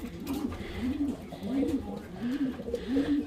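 A racing cock pigeon just back from a hard race coos in low, repeated rolling phrases about every second, close by over a steady background hum.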